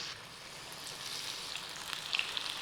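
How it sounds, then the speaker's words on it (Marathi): Chicken lollipop pieces coated in a flour batter deep-frying in a small kadhai of hot oil over a low flame, giving a steady close hiss and crackle with a few sharper pops near the end. "याला कमी आचेवरच तळून घ्यायचं आहे असं छान कुरकुरीत होईपर्यंत तळायचं"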